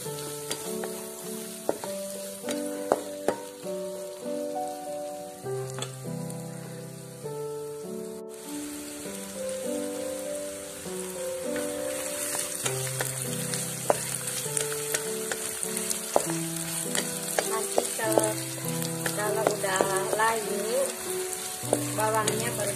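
Garlic and shallots fry in a hot pan with a steady sizzle and crackle that runs the whole time, partly masked by melodic background music.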